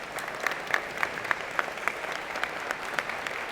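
Audience applause at a college of engineering and computer science convocation, greeting standing scholarship students; a steady crowd clapping that carries on evenly with a few sharper claps standing out, moderately distant in a large hall.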